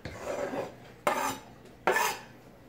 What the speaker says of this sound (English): I'm just gonna kind of cube up a little steak here that we didn't finish last night and toss her in there